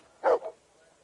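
Dog in the medieval video game Kingdom Come II, giving one short close bark followed by a softer second yelp, alone against a quiet background.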